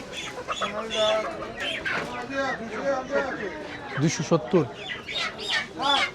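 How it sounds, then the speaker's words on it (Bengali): Many Sonali chickens clucking and squawking in a busy poultry market in Uttara, Dhaka, close and continuous, mixed with people talking over them. "এখানে অসংখ্য সোনালী মুরগি দেখতে পাচ্ছি"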